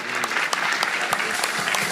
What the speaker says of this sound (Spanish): Fuerte aplauso, doctor Pedro Torres